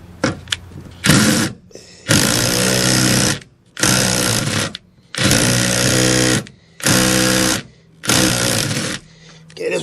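A power tool tightens bolts in a series of six loud, close bursts, each buzzing rattle lasting about a second with short pauses between them.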